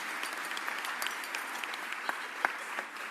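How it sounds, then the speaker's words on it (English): A crowd applauds at a Philadelphia civic event announcing the cycling classic, a fairly quiet, steady wash of clapping from some distance with a few sharper individual claps standing out. "give him another round of applause,"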